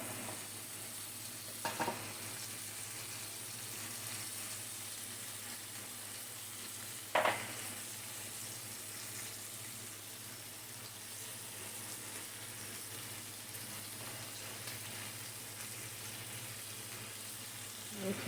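Butter sizzles and fries in a pot with a steady, continuous hiss, broken by a couple of brief clinks near the start and middle. No one speaks.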